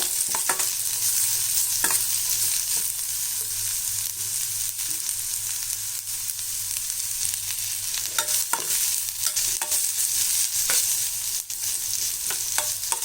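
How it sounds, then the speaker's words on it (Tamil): Onions sauté in oil in a pan for pottukadalai kurma, a continuous close sizzle with frequent scraping stirs of a spoon against the pan and no talking. "இந்த வெங்காயம் நல்லா வதங்கிடுச்சு."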